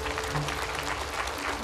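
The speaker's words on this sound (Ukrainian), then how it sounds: "Перші оплески." First applause from the studio audience on a Ukrainian lie detector TV show, a short, even burst of clapping heard fairly close throughout.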